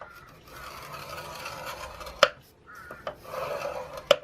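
A scoring tool drawn across 12 x 12 inch patterned paper to crease it for a gift bag: a soft, continuous rasping rub with a few sharp clicks as the tool is set down and lifted, close up with no talk.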